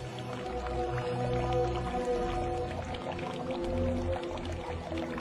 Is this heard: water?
yes